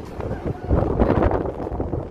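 Wind buffeting the microphone on a warm afternoon at the port of Helsingør, Denmark: a continuous low, gusting roar, loud and close, with a voice faintly mixed in.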